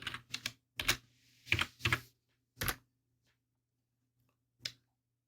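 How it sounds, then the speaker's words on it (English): Short bursts of typing on a computer keyboard, clusters of crisp close keystrokes separated by pauses, with one lone keystroke after a longer gap. "I'll just type course."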